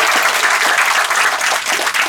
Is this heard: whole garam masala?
no